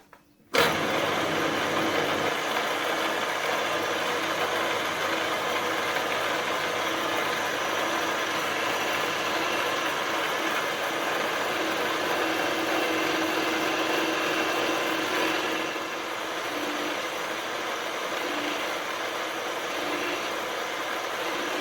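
A milling machine cuts gear teeth for a Kerzel hit-and-miss model engine, running as a steady loud mechanical whir after an abrupt start, then dropping slightly in pitch and level near the end.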